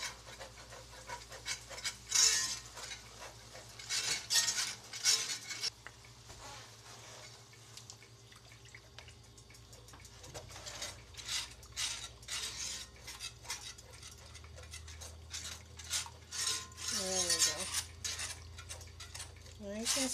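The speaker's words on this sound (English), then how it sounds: "Just keep whisking it around. Make sure you get the outer edges." Country ham gravy is whisked around a pan, with repeated metallic scraping and clinking against the pan sides in an irregular rhythm, close up, with soft breathing and occasional faint voice sounds.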